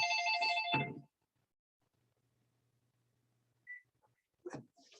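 An electronic telephone ringtone chimes loudly for about a second, then cuts off into near silence broken by a couple of faint clicks and a brief soft voice.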